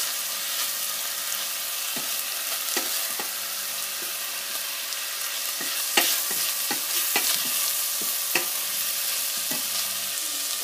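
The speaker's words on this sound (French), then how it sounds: "Et je vais enrober toute la viande avec le concentré de tomate." Ground meat for spaghetti bolognese being stirred and fried in a pan with tomato paste, a dense steady sizzle under repeated spoon scrapes and taps against the pan, close and without talk.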